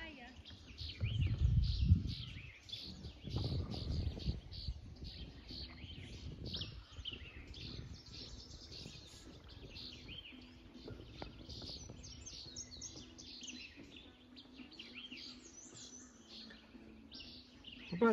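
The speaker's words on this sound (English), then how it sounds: "We got birds on the wire watching us." Birds perched on a wire along the Eleven Point River chirp in quick high tweets throughout, moderately close, over faint water and boat noise, with someone talking briefly at the start.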